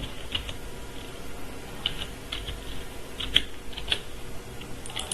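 Scattered, fairly soft keystrokes on a computer keyboard as a user ID and password are entered on an online loan application form, a few sharper taps standing out over a steady background hiss.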